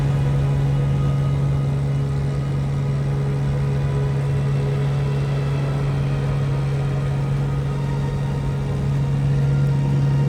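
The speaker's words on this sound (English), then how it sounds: "The pilot fires the engine." Engine of a Cessna 210 plane on a flight in Namibia, a steady droning hum with a strong low tone that holds even and continuous throughout, no voices over it.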